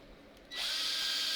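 A power drill clamped to a table starts up after a moment of quiet and spins a sharpening stone, giving a loud, steady high whine that holds to the end.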